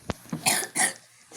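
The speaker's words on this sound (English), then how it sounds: "Sorry for the cough." A child coughs a few times in quick, close, loud bursts with short breaths between them.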